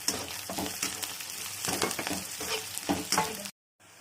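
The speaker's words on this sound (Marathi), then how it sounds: "आता मी शेंगदाणे टाकणार आहे भाजलेले चांगले आणि थोडंसं हलवून घेणार आहे" Fried onion and roasted peanuts get stirred in a pan for poha, a steady crackling sizzle with scraping stir strokes for about three and a half seconds before cutting to near silence.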